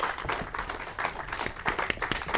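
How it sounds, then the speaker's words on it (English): A live audience at a Griffith Observatory space talk claps to welcome a guest named Gabriele, a brief, moderately loud burst of scattered hand claps with a faint voice or two mixed in. "Round of applause for our guest, Gabriele."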